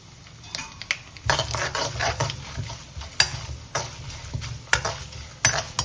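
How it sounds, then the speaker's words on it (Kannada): Chana dal, urad dal and cashew nuts fry in a hot pan with a steady close sizzle, broken by repeated scraping and clinking as a utensil stirs them against the metal. "ಕಡಲೆಬೇಳೆ, ಉದ್ದಿನಬೇಳೆ, ಕ್ಯಾಶ್ಯೂ ನಟ್ ತೊಗೊಂಡಿದ್ನಲ್ಲ ಅದನ್ನ ಹಾಕೋತಾ ಇದ್ದೀನಿ."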